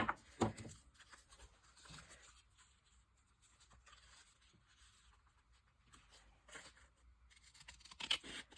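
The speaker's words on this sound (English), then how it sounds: "I'm going to just cut a little piece out of here." Scissors snip and paper rustles as a small piece is cut out of craft paper while building a masterboard, with quiet scratchy handling sounds between a few sharper cuts near the start and end.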